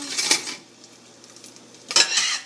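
Seeds being stirred in a metal pan for a Kadhi Pakodas recipe: two bursts of scraping, clinking strokes close by, separated by a quieter gap, with no talking.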